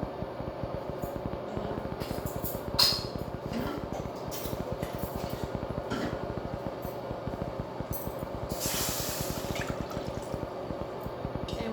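Water pours steadily into a pan of cut vegetables for a mango curry, a continuous close splashing and trickling that runs unbroken throughout.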